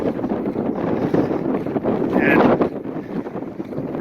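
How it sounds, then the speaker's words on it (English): Strong wind buffets the microphone on a mountain hiking route in the Chicago Lakes Basin below Mt. Evans, a steady roaring rumble that fills the whole clip, with a brief word of speech barely audible beneath it. "the wind has tended to pick up pretty much right at this point as you get up here."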